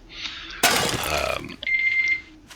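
A timer alarm in the survival video game 7 Days To Die rings with a steady electronic tone after a brief crash-like burst, loud and close, with no talking.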